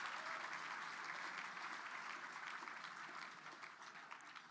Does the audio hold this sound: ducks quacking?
no